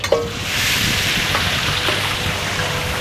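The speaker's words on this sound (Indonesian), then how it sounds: "Minyak udah masuk, kurang lebih ini ya 1 liter kurang lah ya. Langsung aja kita tumis." Ground onion sautéing in nearly a litre of hot oil, a steady, loud, close sizzle that starts with a brief clatter and then holds evenly throughout with no talk.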